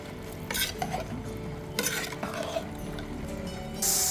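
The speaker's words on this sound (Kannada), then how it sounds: "ಇವಾಗ ತೆಗೆದಿಟ್ಟ ನಾನು ಸೋಸಿ ಇಟ್ಟ ಅಕ್ಕಿಯನ್ನು ಹಾಕಿ ಚೆನ್ನಾಗಿ ಬೆರೆಸ್ಕೊಳ್ತಾ ಇದ್ದೇನೆ" A spoon stirs drained, soaked rice into soya chunk pulao in a pot, giving close, steady scraping and rustling strokes with a soft sizzle underneath and a brief clink near the end; no one talks.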